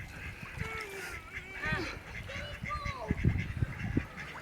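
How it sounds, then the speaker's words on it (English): Ducks quack near a bridge while coming for food along the Gold Strike Hot Spring Trail near Las Vegas, a few short quacks and squawks at moderate distance with people talking and laughing around them. "there's this duck coming for the food"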